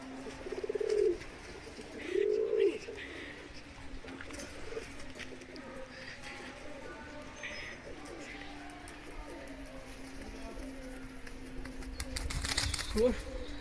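Madras pigeons coo in low, rolling bursts near the start and middle, with a brief flutter of wings toward the end, against a steady background hum.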